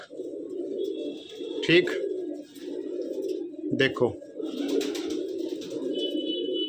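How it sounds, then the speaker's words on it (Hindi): Jet black female pigeon cooing in low, steady murmurs that run almost the whole time, close by, while someone talks over it. "काली मखियाली कबूतरी, बिल्कुल जेड ब्लैक"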